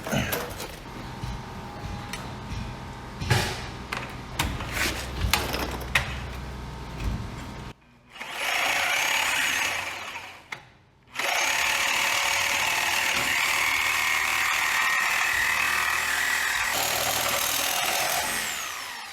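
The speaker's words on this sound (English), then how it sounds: "Bet you I could get my Sawzall in there. That might go a little easier. Let's get the Sawzall out." A Sawzall reciprocating saw cuts through the oil pan of a Kubota-powered wood chipper, a loud sustained buzzing whine in two long bursts after a stretch of clanking tool work, with a brief pause between runs.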